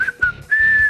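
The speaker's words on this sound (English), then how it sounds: "here comes the magic whistle" Magic whistle from Super Mario Bros. 3, a short, loud, clear whistled melody of a few rising and falling notes lasting about a second.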